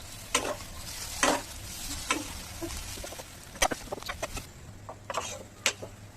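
Maggi noodles are stirred with masala in a pan, with a soft frying sizzle broken by repeated scraping and clattering strokes of a spatula at irregular intervals.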